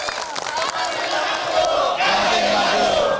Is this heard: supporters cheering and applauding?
yes